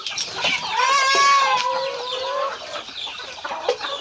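Laying hens clucking close by, several overlapping calls with rising, drawn-out cackles in the middle, busy flock chatter continuing throughout.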